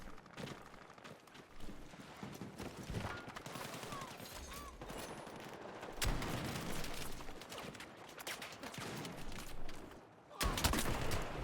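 Video game gunfire cracks out in irregular bursts and single shots, some close and loud, others scattered, over a busy background with a few sharper spikes near the middle and end.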